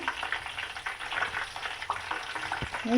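Close, steady crackling and sizzling of wet leaves frying in hot oil, dense popping throughout with a few brief stirring knocks.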